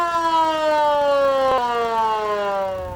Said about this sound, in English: the motorized siren